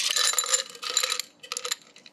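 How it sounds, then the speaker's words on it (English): Ice cubes clink and rattle as they drop into a tall glass while a lavender lemonade cocktail is being mixed, in two quick bursts of bright clatter with a brief pause between. "get some ice,"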